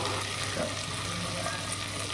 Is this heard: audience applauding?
no